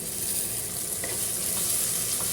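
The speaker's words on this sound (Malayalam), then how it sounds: "ഒന്ന് തുറന്നിട്ട് മിക്സ് ചെയ്ത് കൊടുക്കാട്ട ഇനി നമുക്കിതിലേക്ക് തക്കാളി ഇട്ട് കൊടുക്കാം" Frying onions sizzle steadily in a pan as tomatoes go in and are stirred through, with a few soft scrapes over the continuous hiss; no one speaks.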